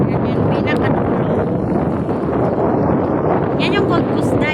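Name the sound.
strong wind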